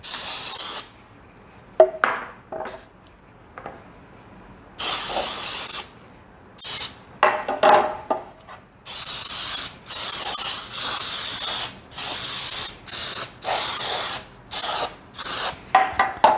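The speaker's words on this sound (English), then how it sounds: "I'm going to take my cooking spray and I'm going to spray the pans" Repeated short hissing bursts of cooking spray onto baking pans sound up close, one after another in a steady rhythm, with a few clinks and quiet gaps.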